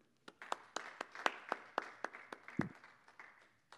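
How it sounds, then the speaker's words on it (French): Sparse, distinct hand claps from a small audience at a Guinean cultural gathering, about a dozen separate claps spaced out over a few seconds, fairly faint. "Il faut l'applaudir."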